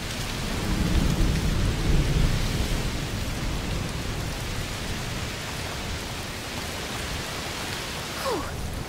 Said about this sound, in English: Raining a lot? Yes.